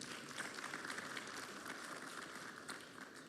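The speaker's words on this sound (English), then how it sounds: "please join me in a final round of applause for all our speakers" A conference audience at a food regulatory science symposium applauds the speakers, a steady dense wash of many hands clapping, moderately distant and fairly faint, without speech.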